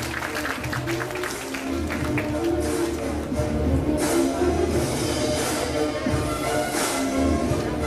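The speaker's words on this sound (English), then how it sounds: "A round of applause, please, to Mr. Bhushan." Applause for a guest speaker, Mr. Bhushan, at a university entrepreneurs sharing session; scattered clapping under a rumbling, droning background and some murmured voices.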